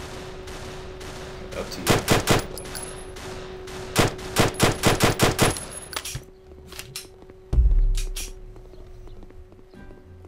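Machine gun turrets in the voxel tower-defense shooter Super Voxel World fire in several loud staccato bursts over a steady game hum, followed by a heavy low thump; a voice speaks briefly.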